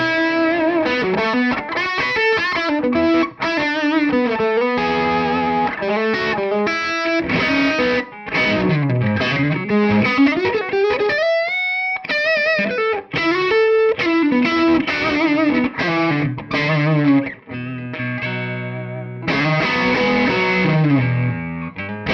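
Distorted electric guitar played through the second, red channel of a Synergy preamp, a loud, dense run of sustained chords and melodic lines with a brief pause near the middle, no talking.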